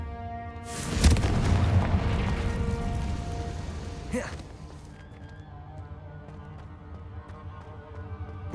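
A Confringo blasting spell explodes in the Hogwarts Legacy video game, a loud booming burst that rumbles and decays over several seconds, followed by a second sharper crack and a quieter lingering tail.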